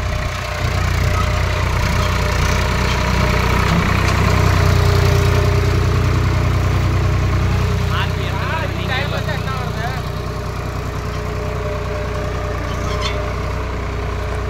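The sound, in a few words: Swaraj 855 FE tractor engine running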